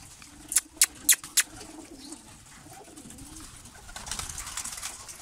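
Pigeons at a loft coo softly in the background, with a few sharp flapping or scuffling bursts near the start and a rustling stir toward the end as the birds move about.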